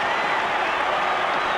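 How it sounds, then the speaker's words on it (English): A rugby league crowd at a 1992 Manly Sea Eagles versus Canberra Raiders match roars and claps after a Manly try, a dense, steady wall of cheering and applause throughout. "Well, the crowd, they are absolutely loving it"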